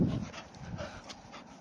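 A working-breed duck dog pants close to the microphone during a break in frisbee play, its quick, even breaths soft and steady with no talking.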